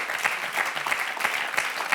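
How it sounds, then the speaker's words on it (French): A game-show studio audience claps steadily, a dense patter of hands with no voices over it. "Applaudi par Annie."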